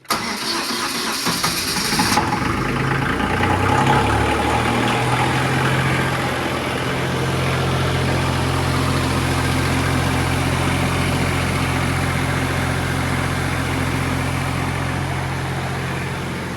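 A cold New Holland Workmaster tractor diesel cranks briefly, catches and fires up loudly, then settles into a steady, rough, rumbling idle up close.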